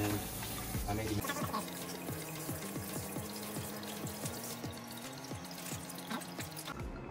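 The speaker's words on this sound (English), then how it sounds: "let's wash our hands" Running tap water splashes steadily over hands being washed at a sink, a continuous close wash with a faint rhythmic clicking pattern beneath it and no speech.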